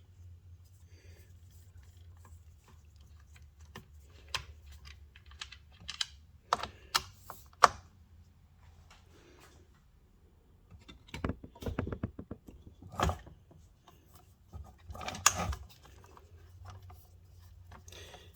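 Small screws are backed out of a Poulan Wild Thing chainsaw with a T25 driver, giving scattered light clicks and ratcheting ticks in short bursts. They sound close and quiet against a low steady hum.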